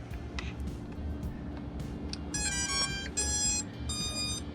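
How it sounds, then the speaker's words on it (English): A quiet electronic hum, then a few short bursts of high, bright beeps in quick succession near the end as a Force1 F100 Ghost brushless drone binds to its controller. "You hear those beeps, that means it's all bound up"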